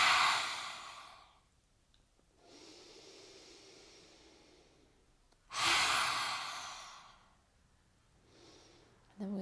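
Deep breaths during a throat chakra yoga flow: a long airy exhale, a soft inhale, then another forceful exhale, close and breathy, with brief quiet between breaths.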